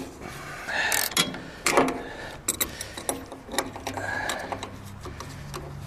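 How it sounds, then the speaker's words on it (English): A crescent wrench holds a nut and bolt while trailer wall framing is secured with brackets and tie-downs, producing a quick run of sharp metallic clicks and rattles, close and fairly faint, with irregular ratcheting bursts. "as long as it's spinning, you got to keep that crescent wrench on there to hold it in position"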